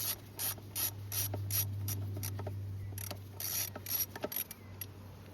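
Ratchet spinning out the small 8mm bolts that hold the airbox cover on a Johnson 50hp two-stroke outboard, rapid bursts of close clicking with pauses between them over a low steady hum.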